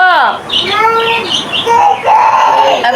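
Bright, close bird chirps and whistled calls repeat throughout, with short rising and falling notes in quick succession and a faint voice underneath.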